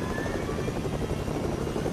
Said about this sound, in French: Bon, je vais prendre l'hélico.